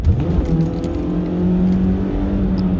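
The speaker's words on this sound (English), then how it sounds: "It's one of them 2010 Mitsubishi Lancer with just the base motor, and it's just not enough." A 2010 Mitsubishi Lancer with the base engine runs close and steady, its tone rising slightly in a mild rev over a continuous hum, with no speech.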